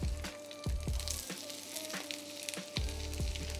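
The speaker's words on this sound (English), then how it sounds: "Now we're going to put in our onions." Sliced onions with green chilies crackle and hiss as they hit a hot pan, the sizzle surging in bursts with sharp spatula scrapes and taps between them.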